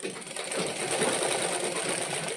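A sewing machine runs continuously while stitching a jacket's back lining to the back piece, giving a close, steady mechanical whir with fine rapid needle chatter and no voices.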